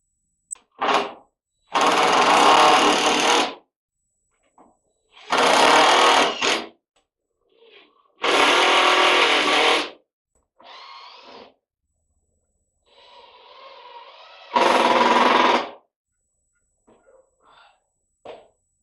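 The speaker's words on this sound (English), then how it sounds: "You wonder what all the screwing is about. Putting it through, backing it out" Power drill driving screws into boards of a shop assembly table, with four loud bursts of whirring and a couple of shorter, softer runs in between, each separated by pauses.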